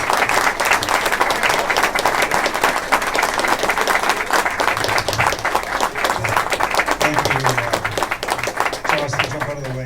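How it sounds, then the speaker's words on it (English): A standing audience at an AGM gives sustained, steady applause for finance minister Rod Phillips, a loud, continuous crowd of clapping hands with cheers and voices mixed in throughout. "please stand and give a round of applause for our newest finance minister"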